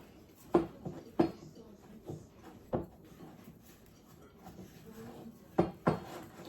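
Sourdough cracker dough is being mixed in a bowl with dried grated ingredients, giving a soft rubbing sound and a few sharp knocks of a utensil against the bowl, quiet and irregular.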